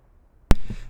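A single sharp explosion in the space-combat video game Star Trek Legacy bursts out of near silence, then rumbles and fades over a short tail.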